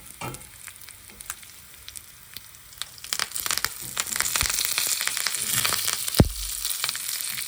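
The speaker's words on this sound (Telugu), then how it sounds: "ఇంగువ యాడ్ చేసి ఇప్పుడు కరివేపాకు కూడా వేసేస్తే" Curry leaves and asafoetida dropped into hot oil crackle and sizzle, starting quietly and swelling into loud popping spatters with a sharp burst near the end, close up and without talk.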